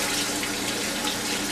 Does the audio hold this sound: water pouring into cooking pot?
yes